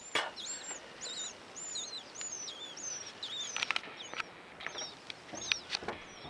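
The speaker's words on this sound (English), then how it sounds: "And if you can hear, there are little baby birds in there." Baby birds in a nest in a house attic, giving a run of thin, high, rapid chirps and cheeps that come in quick bursts, close and fairly clear over a quiet background.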